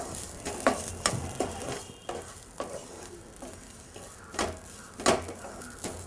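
Jalapenos and grated fresh coconut dry roast in a pan, with scattered sizzling and repeated scraping stirs at an uneven rhythm, close and fairly loud, with no talking.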